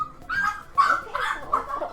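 A puppy gives a string of short, high yips and whimpering cries, close and moderately loud, in quick uneven bursts with pauses between them.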